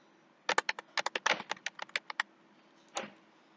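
Quick bursts of keystrokes on a computer keyboard, about a dozen close, crisp clicks in a fast run, then a pause and one last key press, with no talking.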